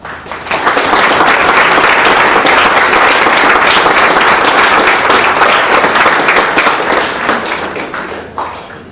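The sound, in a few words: audience applause at sports banquet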